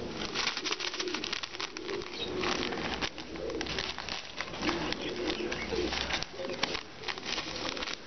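A flock of pigeons coos steadily up close, overlapping soft throaty calls with occasional wing flutters and light pattering throughout.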